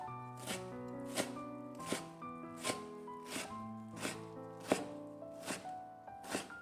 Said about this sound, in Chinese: 用刀切成小碎丁